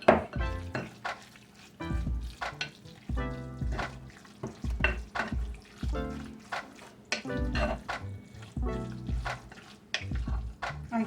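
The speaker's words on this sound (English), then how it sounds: "I'm going to give it another stir." Tuna salad seasoned with black pepper being stirred in a bowl, irregular scraping and clinking of a utensil against the dish in close repeated strokes, with faint speech in places.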